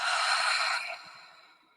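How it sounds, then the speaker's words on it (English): One slow, deep breath, a soft airy exhale that fades away, close and quiet with nothing else around it. "Take one breath with me"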